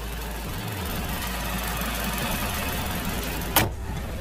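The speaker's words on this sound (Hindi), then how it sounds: "तो ये था mini twin power turbo petrol engine." A 2021 MINI Cooper S Convertible with a BMW B48 TwinPower turbo petrol engine, 192 hp, runs at a steady idle, close and continuous, with a brief sharp click near the end.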